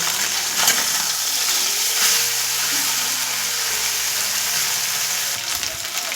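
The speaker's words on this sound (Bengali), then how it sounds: "এক পিস মাছ ভাজা হয়েছে মাছ আমি এবার উল্টিয়ে দিচ্ছি" Small mola fish fry in a pan of oil, a bright continuous sizzle with faint scraping and bumps from turning the fish, steady and fairly loud throughout.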